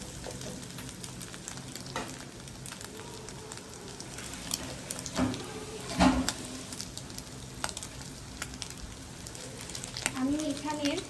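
Egg fries in a pan with a crackling, rain-like sizzle and occasional stirring knocks, close and fairly steady, with a brief voice surfacing near the end.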